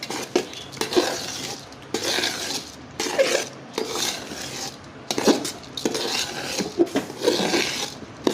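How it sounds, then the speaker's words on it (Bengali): Rice fried with spices for chicken tehari, stirred in a pot with repeated scraping and clinking strokes of a utensil against the metal in an uneven rhythm, close and fairly loud, no talking. "চাউলটাকে খুব ভালো করে নাড়াচাড়া করে চারদিকে সমানভাবে, কোথাও যেন বাদ না করে, ভালো করে কষিয়ে নিতে হবে।"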